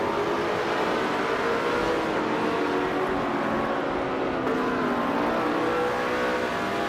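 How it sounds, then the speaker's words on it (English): 1968 Eagle Mark V race car at speed, a loud continuous engine drone with shifting pitch, heard steadily without talk. "it is driving a 1968 Eagle Mark V, starting in 5th place."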